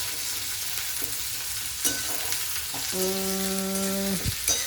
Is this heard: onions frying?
yes